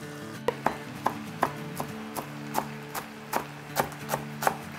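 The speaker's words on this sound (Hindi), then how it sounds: "जब तक हम अपने कुछ हरा धनिया, पुदीना, हरी मिर्चें ये सब काट लेते हैं" Fresh coriander, mint and green chillies are chopped with a knife in a steady run of about a dozen crisp, close thuds at an even, unhurried pace.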